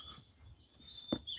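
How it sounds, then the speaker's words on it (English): Birds chirping loudly during an early morning countryside walk, a few bright high calls over a quiet outdoor background, with one sharper call standing out near the end. "I don't know if you can actually hear the birds."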